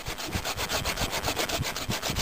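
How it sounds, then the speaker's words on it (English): Kershaw folding saw cutting through wood at least four inches thick, a close, loud, rhythmic rasp of regular push-and-pull strokes cutting in both directions, with no talk. "You can see it's cutting in both directions. There's sawdust flying on both sides."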